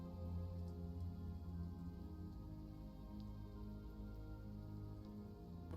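Steady rain patters over a long low rumble as tabletop-game ambience, loud and continuous from start to finish with faint scattered drips on top.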